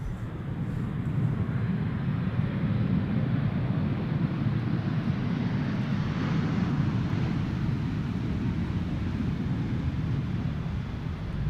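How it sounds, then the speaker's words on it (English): A British Airways A320 lands at Amsterdam Schiphol Airport, arriving from London Heathrow, with a steady, loud rumbling jet roar that swells slightly in the middle and persists throughout, mixed with some wind noise. "Have a look at the landing of BA. Flight 430, arriving from London Heathrow,"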